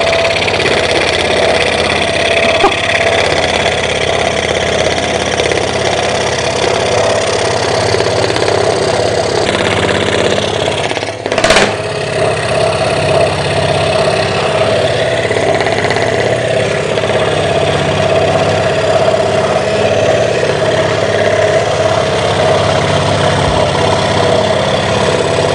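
A studio cutting machine with adjustable cutting speed and a dust blower runs in a steady, even drone throughout, broken only by one brief click near the middle.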